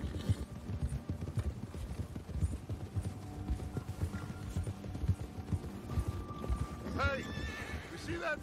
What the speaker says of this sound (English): One horsey.